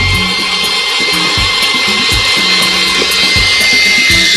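An electric mixer whirs steadily as it beats meringue with sugar and vanilla, a loud, continuous motor hum close up with a faint rhythmic pulsing from the beaters, and no talking.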